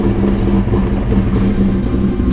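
A car engine runs at a loud, steady idle with a low, even rumble and slight fluctuations, close by and with no voices.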